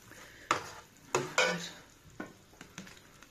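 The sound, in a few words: leek sofrito frying in a pan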